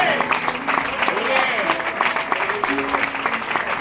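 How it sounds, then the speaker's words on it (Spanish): Church congregation applauding together, a steady dense clatter of clapping mixed with voices and some tonal sound running underneath throughout. "Den un fuerte aplauso para el Señor."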